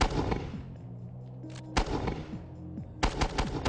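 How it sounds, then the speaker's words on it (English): A Mark 19 grenade launcher fires in short rapid bursts, three loud booming volleys spaced a second or so apart, each leaving a rumbling echo before the next. "With the old Mark 19, to find the target, you need to get right down to the sights."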